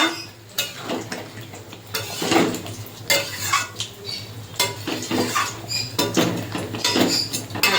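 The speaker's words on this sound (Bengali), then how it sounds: "ভাজা মশলাটা করেছিলাম সেটা দিয়ে আমি ভালো করে কষিয়ে নেব।" Chicken sautéing in a pan with fried spice paste, a utensil scraping and clattering against the metal in repeated bursts over a steady low sizzle, close and fairly loud, with no talking.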